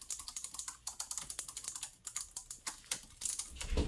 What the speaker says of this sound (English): that's the noise that you can expect from this keyboard. It's pretty loud.